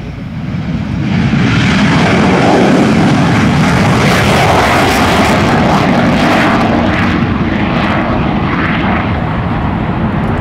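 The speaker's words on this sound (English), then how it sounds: "The F-18 Hornet flown for today's demonstration is one that regularly is used in fighter attack and aircraft carrier landing missions." A Navy F-18 Hornet fighter jet roars past during a 2010 Westfield airshow demonstration, a loud, sustained, broadband engine rush that swells and holds for the whole pass with no talk over it.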